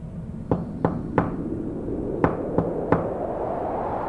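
Knuckles rap on a window in two sets of three sharp knocks, separated by a pause, each crisp and close over a dull low background rumble.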